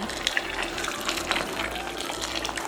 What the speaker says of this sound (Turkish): sıcak suyu koyuyorum